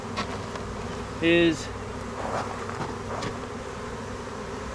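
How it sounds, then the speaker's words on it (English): Honeybees fanning at a swarm box: a steady, close insect hum with a brief louder buzzing swell partway through and faint voice nearby. "Now there's some bees fanning again."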